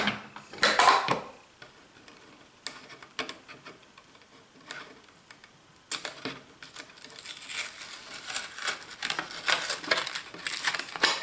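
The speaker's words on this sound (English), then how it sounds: "Gotta get this sandpaper out of the way" Sandpaper sheets crinkle and rustle as they are shifted aside on a straight line jig setup, with a loud crumpling burst near the start, then quieter ticks and handling noises building again toward the end.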